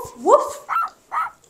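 A person imitates a dog's bark with three short voiced "woof" calls in a steady rhythm, close and clear, for toddlers learning animal sounds; the first is a rising yelp-like call and the other two are shorter.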